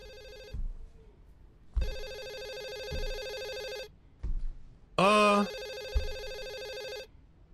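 A telephone rings repeatedly in the night-shift horror game Hazing Night Shift, loud bursts of electronic ringing separated by short gaps, with footsteps and a brief voice in between.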